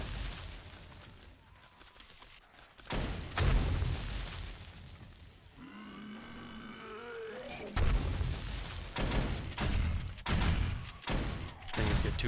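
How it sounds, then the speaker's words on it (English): Gunfire in the zombie survival game 7 Days to Die, shots aimed at the ground to hit groups of enemies, with loud bursts of repeated shots broken by short pauses and other game sounds. "shoot the ground to hit groups of them"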